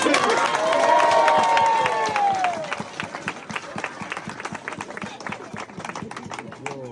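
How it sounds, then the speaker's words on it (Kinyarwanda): A crowd at a baptism bursts into loud cheering and shouting that fades into a long run of scattered hand claps, with voices mixed in. "Wow, amashyi cyane."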